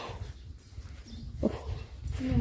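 A dog gives a few short whimpering, yipping cries with pauses between them, fairly close, over faint background noise.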